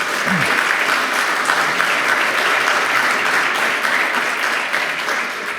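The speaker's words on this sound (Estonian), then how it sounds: "teeme suure aplausi" Audience at an Estonian lecture event applauding after a physics talk, a full, sustained round of clapping from a crowded hall that holds steady and tapers slightly near the end.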